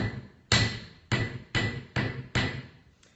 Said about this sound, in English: I take it over to my anvil or to my bench block, and I give it a little smack, just like this